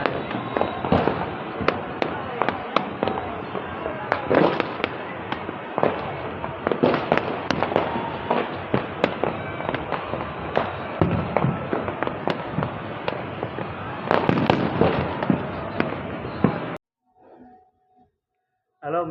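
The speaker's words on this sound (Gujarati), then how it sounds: "નીકળ્યા ફટાકડા ફૂટે ફટાકડા" Firecrackers burst in a rapid, dense string of loud cracks and pops on a rooftop in Surat, continuing for about seventeen seconds before cutting to near silence, then a final burst.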